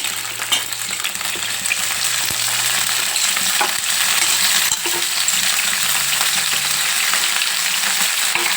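Gongura (punti) leaves fry in hot oil for a tangy pickle, giving a steady, close sizzle throughout with a few light clinks and stirring scrapes from the pan.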